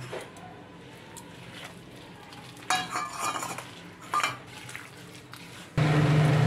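A spoon stirs gram flour batter with a little water in a metal bowl, scraping and clinking in bursts, then a louder steady sizzle of hot oil in a wok takes over at the end.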